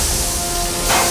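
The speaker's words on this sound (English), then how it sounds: "We gotta stop the leaks!" Cartoon pipe leaking water, a loud, steady hissing spray that rushes continuously and swells slightly at the end.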